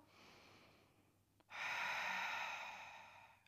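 Slow breathing during a Pilates leg exercise: a soft, quiet breath is followed by a longer, louder airy exhale that fades out, with no talking over it.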